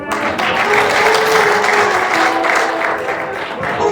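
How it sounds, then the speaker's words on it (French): Congregation applause at a Haitian church service, steady dense clapping from a sizable crowd filling the room, with a few voices mixed in underneath. "On applaudit."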